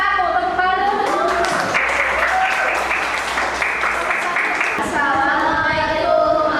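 Applause from a classroom audience welcoming the first student group to present, steady clapping throughout with voices talking over it.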